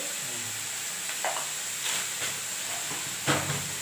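Tomatoes sauté in a pan with rock salt, a soft continuous sizzle broken by a few scraping stirs and light clinks of a spoon against the pan.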